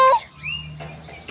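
Lovebirds in an aviary give a brief sharp chirp followed by a faint thin whistle, with quiet background hum and a soft knock at the end.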